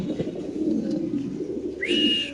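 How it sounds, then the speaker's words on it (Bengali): A pair of fancy pigeons on a pigeon farm coo in a low, steady burbling drone, close and continuous, and a brief high whistle-like tone cuts in near the end. "খুব সুন্দর একজোড়া কবুতর।"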